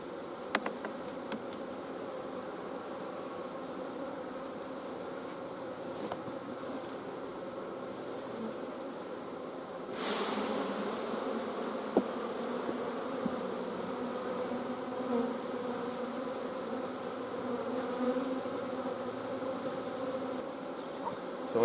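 Honeybees swarm and buzz around an open hive being worked in January, with frames of honey pulled from a dead colony; a steady, close insect drone that grows louder and busier halfway through.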